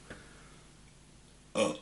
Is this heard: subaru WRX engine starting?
no